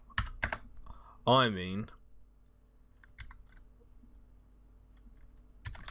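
Someone types in cPanel on a computer keyboard. A few soft, scattered key clicks come near and fairly quiet, with a brief spoken phrase partway through.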